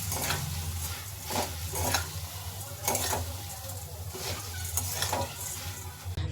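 Peanuts frying with puffed rice in a pan, stirred with a steady scraping rhythm over a continuous sizzle and low hum, close and moderately loud.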